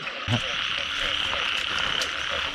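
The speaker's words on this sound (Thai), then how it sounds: "เนี่ยกบเข้าคู่กัน ตัวผู้มันจะตัวเล็ก" Frogs croak in a steady, dense chorus at a mating spot, with a continuous layered trill and a few louder nearby croaks over it.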